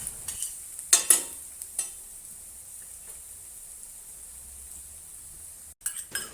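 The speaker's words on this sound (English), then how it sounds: "saute the garlic straight away with the vegetable oil until it starts to turn aromatic" Garlic sizzles in vegetable oil in a pan over low heat, a soft steady hiss broken by a few sharp stirring scrapes and clinks of a utensil, close and otherwise quiet.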